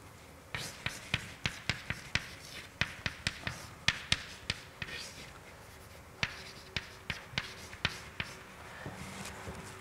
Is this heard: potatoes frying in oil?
no